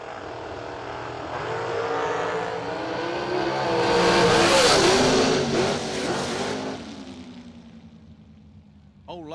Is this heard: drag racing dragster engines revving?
yes